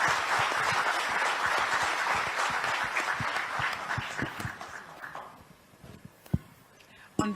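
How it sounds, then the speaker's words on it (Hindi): Audience applause at the FICCI 92nd annual conference in a Taj hotel hall, thanking the Chief Minister: a sustained wash of clapping that fades out over several seconds, with a few isolated sharp claps and faint voices near the end. "मैं आप सब लोगों को गुजारिश करूंगी कि जोरदार तालियों से उनका शुक्रिया अदा किया जाए"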